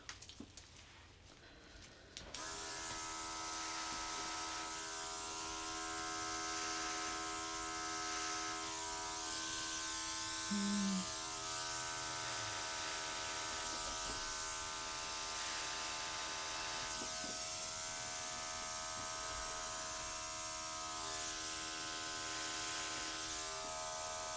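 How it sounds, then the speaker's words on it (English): An airbrush sprays steadily for over twenty seconds, giving a continuous close hiss over a constant motor-like hum, after a brief quieter rustle at the start. "I don't want my torch, I want my airbrush"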